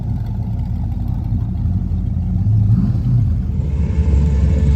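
A loud car engine rumbles with a deep, throaty exhaust through open Hooker Blackheart exhaust cutouts, idling and then swelling slightly as it revs, with no talking.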